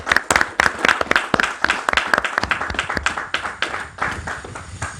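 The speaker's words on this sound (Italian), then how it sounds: "Facciamo un applauso" An audience claps at an Italian talk show, dense applause of many hands, loud and close, staying steady for the whole stretch before easing slightly near the end.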